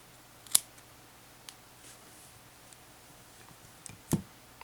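Scissors snip a cotton ball being cut into a vape coil wick, giving two sharp distinct clicks about three and a half seconds apart with faint ticks in a quiet room.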